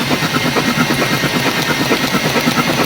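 A Mazda BT50 2.2 diesel engine cranks after ECU installation and injector replacement, giving a loud, close, steady run of rhythmic chugging pulses with no pause.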